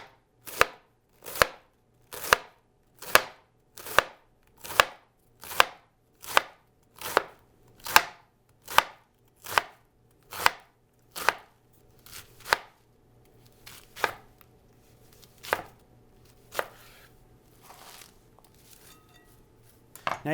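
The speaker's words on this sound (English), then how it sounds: "I'm going to slice this nice and thin." A knife slicing cabbage thinly on a board: about fifteen crisp, evenly spaced chops, close and sharp, then slower scattered cuts and light handling noises.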